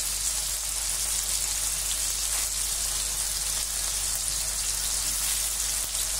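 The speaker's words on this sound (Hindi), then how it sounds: "इसी हिसाब से इसको मैं फ्राई कर रही हूँ। ये धीमे फ्राई होगा" Gadré surimi crab sticks fry slowly in a pan, making a constant, dense sizzle with a bright hiss that stays even and close from start to finish, with no talking.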